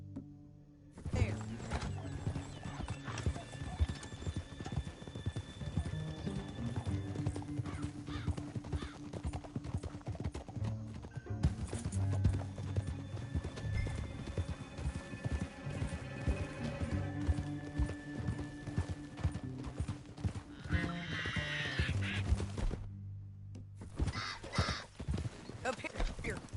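Rhythmic clip-clop of horse hooves in Red Dead Redemption 2 runs steadily throughout, with occasional mechanical clanks and a musical backdrop.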